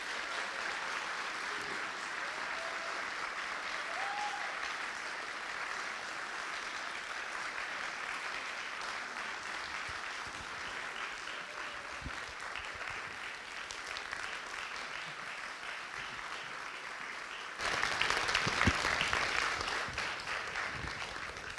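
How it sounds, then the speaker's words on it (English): An audience at a Capital Pride 2023 human rights panel applauds in a steady, dense wash of clapping that holds for about twenty seconds and swells louder near the end. "Let's give these phenomenal three folks an astounding round of applause."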